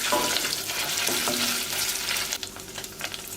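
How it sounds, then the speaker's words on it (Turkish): Tomato and pepper paste stirred into hot oil makes a continuous crackling fry and sizzle with scraping stir strokes, loud and close, and no voices. "karıştırıp salçayı yağın içerisinde hafif dağıtıyorum"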